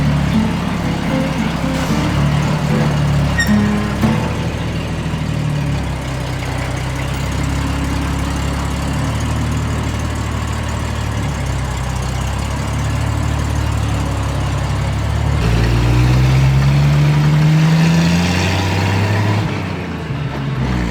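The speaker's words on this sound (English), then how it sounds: "The engine is running smoothly, the tracks are turning" A Hetzer tank destroyer's engine rumbles steadily up close as its tracks turn, low and droning, rising in pitch toward the end as it revs, with faint talk underneath.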